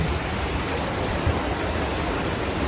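Rain pouring down during a sudden downpour in Florida, a dense, loud, unbroken wash of noise that stays steady throughout with no voices.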